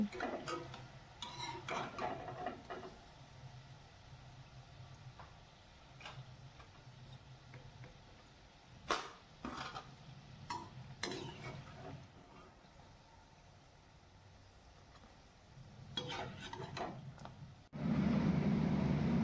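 Ripe banana fritters being strained and lifted out of hot frying oil with a metal utensil, giving scattered clinks and scrapes against the pan over a low, steady background hiss, with a louder rumble at the very end.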